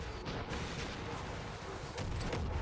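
Airstrike explosions rumble on a battlefield in Far Cry 5, a dense barrage of booms and blasts running throughout, with a heavier burst near the end.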